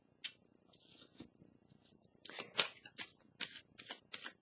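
Tarot cards being handled and laid down, a run of crisp papery snaps and shuffling swishes at close range, bunched toward the end, with quiet pauses between. No one speaks.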